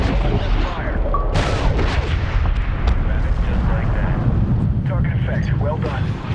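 In Medal of Honor Tier 1, during the Breaking Bagram mission, a dropped bomb explodes into a heavy, sustained rumbling blast with crackling debris, while radio chatter talks over it.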